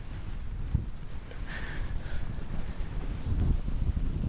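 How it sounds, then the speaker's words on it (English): Wind blowing hard on the Scottish coast, a close continuous rumbling buffet across the microphone with gusts that swell and ease, no voices present. "the wind has changed direction and it's now coming from the west to the east"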